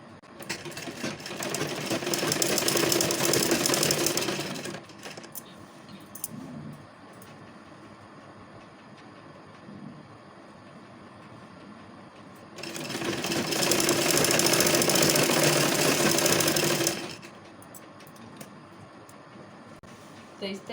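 A sewing machine runs in two long steady bursts while stitching a lined kurti, loud and close, with a quieter pause between runs where someone talks.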